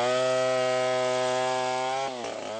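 Chainsaws cut trees in a forest, their engines holding a loud, steady buzzing whine before the pitch sags and wavers near the end.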